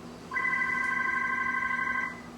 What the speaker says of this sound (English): the telephone seems to be ringing in the middle of my cooking show